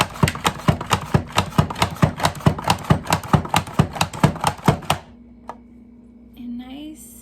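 Potatoes are sliced on a Rapid Prep mandoline in fast, even, loud strokes for about five seconds, then stop, leaving a low hum and a brief voice.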